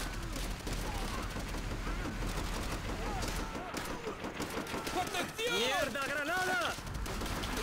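Rapid gunfire rattles in Call of Duty: World at War, with dense bursts of shots and explosions cracking continuously and loudly while a player talks over the battle.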